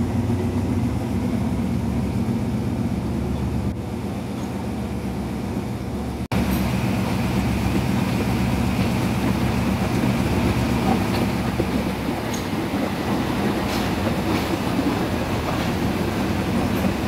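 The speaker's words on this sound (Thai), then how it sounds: "ขบวนธรรมดาที่313ค่ะวันนี้ใช้ริ้วของ284ทำขบวน กำลังออกจากสถานีกรุงเทพ" Ordinary train 313 pulls out of Bangkok station, a steady loud rumble of rolling railcars with faint clickety-clack and occasional wheel squeal, continuous throughout with no talking.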